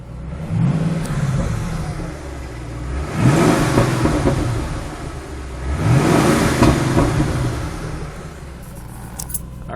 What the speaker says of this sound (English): The engine's warm, so I can rev it a little bit if I wanted to.